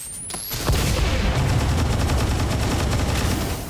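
Gunfire in the turn-based game XCOM 2 breaks out as a loud burst of rapid automatic shots after a brief sharp start, continuing densely for several seconds.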